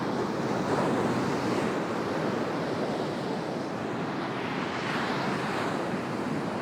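Big ocean waves break on a British seaside shore as a continuous loud roar of surf mixed with wind buffeting the microphone, steady throughout with no voices.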